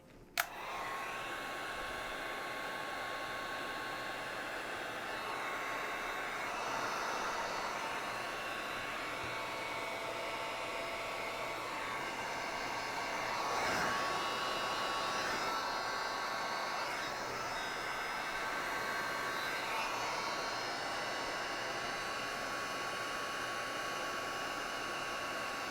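A heat gun blows hot air to shrink heat-shrink tubing onto a phone charger cable, giving a steady, close, fan-driven whoosh that runs without a break and alone, with no voices.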